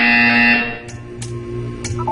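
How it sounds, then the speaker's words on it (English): A harsh, sustained electronic buzzer sounds in the video game Portal 2 and cuts off after about half a second, leaving a low hum with a few short mechanical clicks and taps. "When you hear the buzzer, stare at the art."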